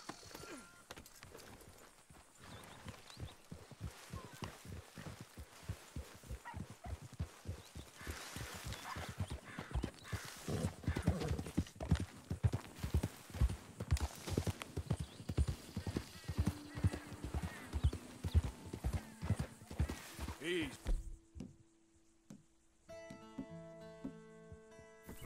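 Horse hooves clip-clopping in Red Dead Redemption 2, a rhythmic beat that grows louder and quicker, then stops abruptly near the end as quiet game music remains.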